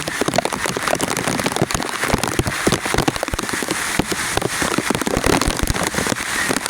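A loud, unbroken downpour of heavy hurricane rain, thick drumming of drops on nearby surfaces with sharper crackling splatters scattered through it.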